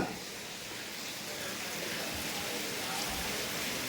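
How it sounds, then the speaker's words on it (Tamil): Heavy rain falls in a steady, dense hiss that fills the whole stretch without letup, close and fairly loud, with no voices over it. "மழை ஜோர்னு பெய்யுது"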